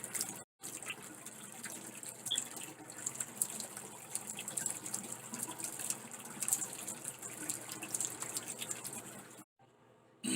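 Water runs through an item being cleaned after brushing, a steady hissing stream with small splashes and drips that carries on for several seconds between brief silent gaps.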